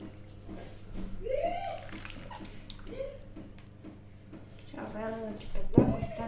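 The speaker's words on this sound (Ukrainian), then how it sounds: "Лею кип'яток." Boiling water pours in short bursts into a roasting pan, splashing and gurgling, while a person talks intermittently over it.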